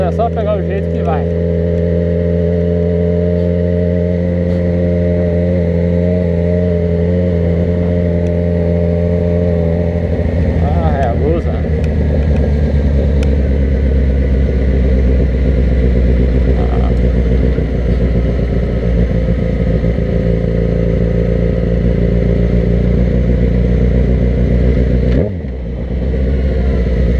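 Yamaha XJ6 motorcycle engine running loud and close, a steady harmonic drone that shifts pitch around the middle as the revs change, then dips briefly near the end.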